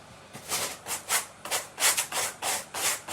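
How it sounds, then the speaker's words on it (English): A sanding block rubs along fabric edges on a pumpkin decoration in repeated rhythmic strokes, close and fairly loud, with no talk. "I'm taking a sanding block to the edges from the fabric."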